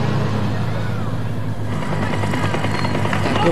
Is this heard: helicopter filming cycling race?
yes